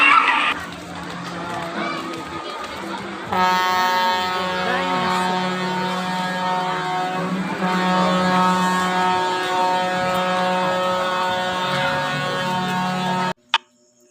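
A loud, sustained buzzing horn signalling a wave pool start blares for several seconds over crowd chatter and splashing ambience at a resort pool, then cuts off abruptly near the end.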